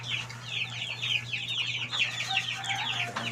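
Chickens being fed cluck steadily in a rapid, overlapping chorus close by, over a constant low hum.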